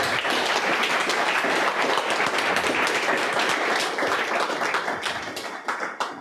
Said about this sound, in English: So first, a round of applause for Emily's talk.